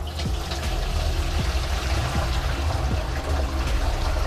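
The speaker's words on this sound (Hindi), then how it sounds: "ये जो बिल्कुल ठंडा यक पानी हुआ है रात के बाद, इसको हमने निकाल दिया है।" Ice-cold water left overnight is poured out of a container, a steady splashing gurgle with intermittent dribbles, close and fairly loud throughout.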